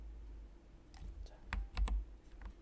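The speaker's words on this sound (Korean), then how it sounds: "키보드 딜리트 했더니" A Delete key tapped on a computer keyboard gives a few sharp, quick clicks close by in a quiet room, with a couple of slightly heavier keystrokes near the end.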